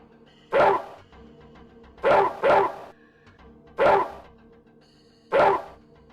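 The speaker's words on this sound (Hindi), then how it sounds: "कुत्ता जोर जोर से भौंकने लगा।" A dog barks loudly and close by, five sharp barks in uneven bursts with quiet gaps between them.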